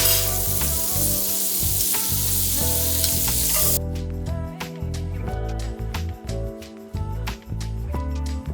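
Butter melting in a hot pan sizzles and crackles loudly and continuously at close range, with occasional stirring clatter and no talk.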